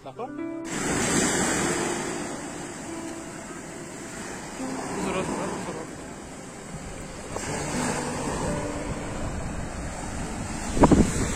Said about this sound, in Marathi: समुद्राच्या लाटांचा आवाज एकदम बसकन येतोय